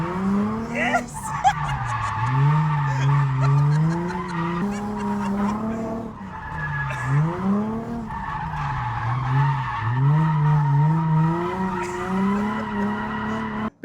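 Tyres of a Mk4 Golf GTI screeching as the car drifts, a loud sustained squeal that rises and falls in long wavering sweeps, with engine noise and a brief cheer near the start.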